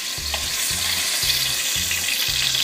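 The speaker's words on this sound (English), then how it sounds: "we fry our meat in big pots like this" Meat frying in a big pot for tacos, a dense steady sizzle with a regular low thumping of stirring or scraping about twice a second, close and alone.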